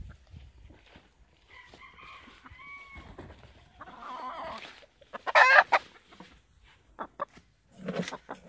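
Chickens cluck and squawk nearby, with a rooster's louder calls breaking in; short bursts come irregularly over a quiet background.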